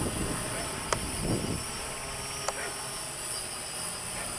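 A Walkera QR X800 quadcopter drone flies around during a flight test with its compass still calibrating, giving a steady, fairly distant whir with two brief sharp ticks partway through and no talk.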